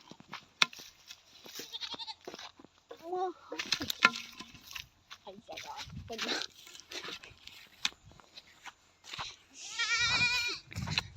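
Goats bleat several times, some near and some farther off, with people talking between the calls and a loud run of bleats near the end.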